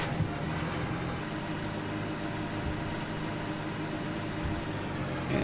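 Tractor engine in Farming Simulator 19, a steady low idling rumble running continuously at moderate level without talk.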